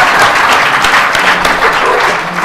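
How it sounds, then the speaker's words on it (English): A round of applause from an audience at a grand jury conference, loud, dense and steady clapping filling the whole stretch without talk. "can I just give a round of applause for that explanation?"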